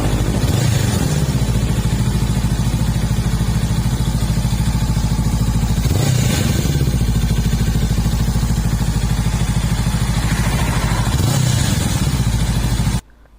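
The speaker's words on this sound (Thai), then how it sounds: "เสียงเครื่องแน่น ๆเลยนะครับ" A 2020 Honda CBR500R with about 10,800 km runs close and loud in a steady, throbbing drone, swelling briefly every few seconds before cutting off abruptly at the end, with no voices.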